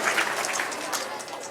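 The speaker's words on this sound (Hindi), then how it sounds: "बहुत बढ़िया, जोरदार तालियां।" An audience claps throughout a health talk, a steady, dense spatter of hand claps filling the whole moment with no voices on top.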